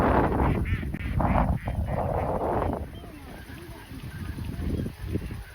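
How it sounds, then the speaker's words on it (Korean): A large flock of ducks at the Suncheon Bay wetland, near a bird-watching hide. Loud, overlapping quacks and honks fill the first few seconds, then thin into quieter scattered calls. "오리가 많았습니다."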